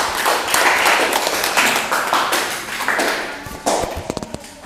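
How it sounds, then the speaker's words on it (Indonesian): A classroom audience applauds a student group after their presentation, a dense burst of clapping that thins out into a few scattered claps near the end. "beri tepuk tangan untuk kelompok 1"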